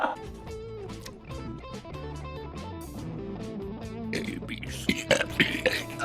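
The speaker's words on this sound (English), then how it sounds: "this guy fucking drinks a beer and then burps the alphabet" After drinking a beer, a man gives a long series of drawn-out, croaky burps, shaping each one like a spoken letter, mixed with a film soundtrack that swells toward the end.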